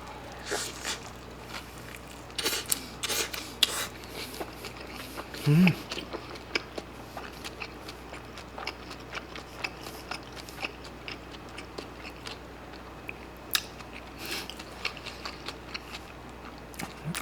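Someone eats an Isaac Toast sandwich up close, with soft, irregular chewing, biting and squishing sounds throughout and a brief louder bite partway through.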